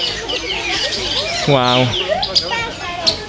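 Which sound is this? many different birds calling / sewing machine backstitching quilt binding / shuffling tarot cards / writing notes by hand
many different birds calling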